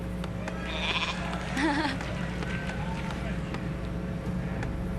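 During a live Warcraft III esports final broadcast, a commentator's voice imitates a sheep's bleat, a short wavering baa over the steady hum of game sounds and crowd ambience.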